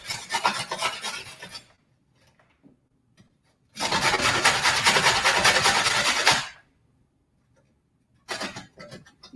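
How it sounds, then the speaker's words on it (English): Fresh produce is grated by hand in two bursts of rapid scraping strokes separated by quiet gaps, with a third short burst starting at the end. "You guys get to see my great grating skills."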